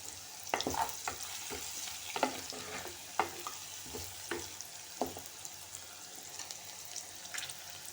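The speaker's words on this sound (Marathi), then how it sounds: "कांदा लवकर शिजण्यासाठी मी थोडंसं मीठ टाकते आहे." Onions fry with salt in a pan, a steady hiss of sizzling under repeated close spatula stirs and scrapes that come every second or so, then thin out toward the end.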